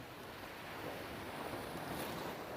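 Sea waves at the beach in Bang Saen wash in a steady, faint roar, mixed with wind buffeting the microphone and no voices.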